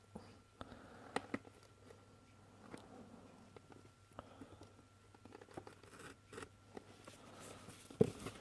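Plastic packaging of JBL Harman E25BT wireless earphones is cut and torn open during unboxing, giving faint, irregular crinkling, scratching and snipping sounds with a sharper snap near the end.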